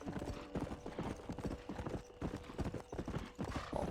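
Hooves of a tired horse in Red Dead Redemption clip-clop in a steady, brisk rhythm throughout, close and fairly loud, with faint background ambience.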